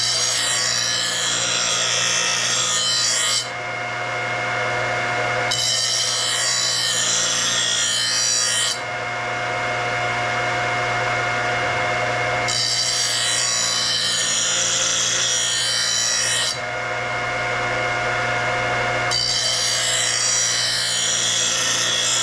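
A Magnamatic blade-sharpening grinder works a blade edge, with four loud, gritty rasping passes separated by pauses over a steady, close motor hum. No one speaks.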